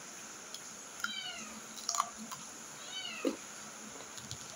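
A cat meows while asking for food, giving several short, rising meows spaced a second or so apart. The cat is fairly close, with no talk over the calls.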